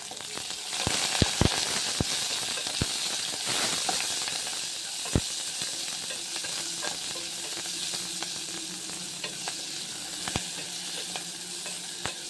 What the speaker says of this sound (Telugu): ఆనియన్ లైట్గా ఫ్రై చేసుకుంటే సరిపోతుంది.